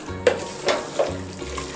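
Chicken masala and biryani masala fry and get stirred in a pan for chicken biryani. A soft sizzle runs under three quick spoon scrapes against the pan.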